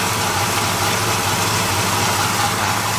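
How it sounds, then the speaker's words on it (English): A brown Chevrolet K-10 pickup's engine runs steadily at idle, with a loose baffle in one muffler adding a constant low rattle and vibration throughout, loud and close with no talking. "That muffler on one side's got a baffle loose in it, evidently. It rattles like crazy."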